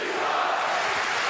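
Broad, continuous crowd noise rising into chants inside a boxing arena at the Klitschko versus Chisora WBC heavyweight fight, steady and fairly loud with no single voice standing out.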